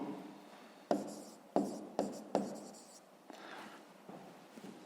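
A pen writes on paper in a maths exercise, several sharp scratchy strokes in quick bursts followed by softer, fainter scribbling close by.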